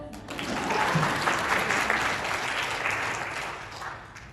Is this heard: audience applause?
yes